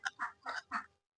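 Four short, faint quacks come from ducks inside a small partitioned duck house, evenly spaced over about a second and followed by silence.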